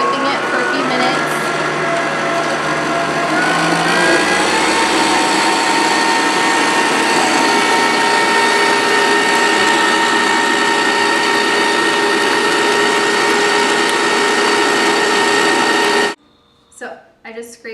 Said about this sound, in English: The one thing I do like about the Cuisinart is it's not as loud as the KitchenAid.